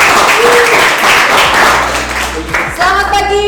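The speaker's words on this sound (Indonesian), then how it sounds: "beri tepuk tangan juga" Classroom applause during an Indonesian school lesson on short stories; a burst of clapping fills the first half, then fades as people talk.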